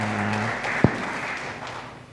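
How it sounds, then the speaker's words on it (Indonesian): Church congregation at an online worship service clapping for God, a soft continuous patter of many hands with one louder thump partway through and a brief fading tone at the start. "berikan tepuk tangan meriah buat Tuhan kita"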